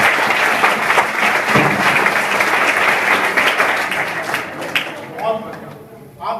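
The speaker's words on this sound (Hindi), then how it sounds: "एक जोरदार ताली।" A class of Indian secondary-school students breaks into loud, sustained applause, dense clapping filling the room before tapering off near the end, with a few voices mixed in.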